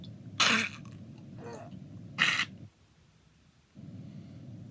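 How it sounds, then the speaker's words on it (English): Three harsh coughs in a rough, uneven sequence, loud and close, with a brief hush of near silence after them before low background noise returns. "If I have to cough again, I keep on coughing"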